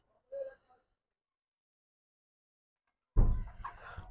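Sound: pigeon chick calling

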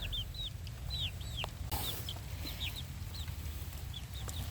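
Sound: chickens clucking on a poultry farm

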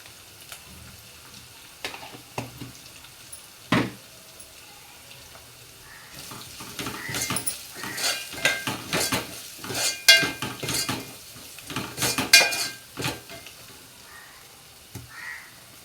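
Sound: frying in a pan with turmeric added

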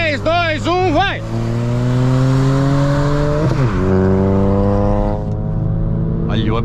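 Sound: Chevrolet Cruze 1.4 turbo and VW Up TSI accelerating, racing

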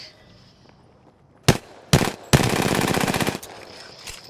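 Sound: gunfire in the video game Apex Legends

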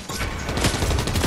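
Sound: drum shotgun firing in a video game

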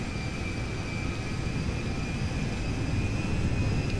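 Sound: C-5M Galaxy transport plane taxiing and turning, from video game GTA V

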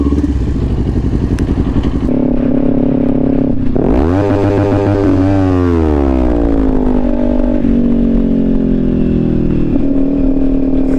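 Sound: motorcycle riding off at a bike meet

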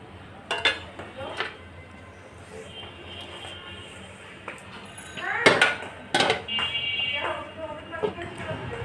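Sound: covering the cooking pot with a lid

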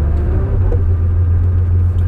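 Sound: Porsche 911 engine reversing

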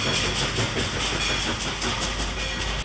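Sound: steam locomotive train

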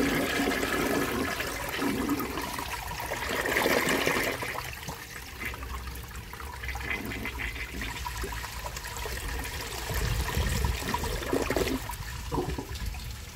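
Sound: 1966 Nationaline toilet flushing a washcloth

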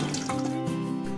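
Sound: washing moong dal in water

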